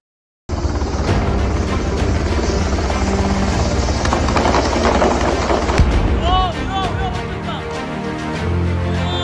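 Military helicopter evacuating wounded soldiers in southern Lebanon near Taibeh: a loud, continuous rotor roar fills the scene, with crackling bursts like distant gunfire or fireworks and faint whistling tones toward the end.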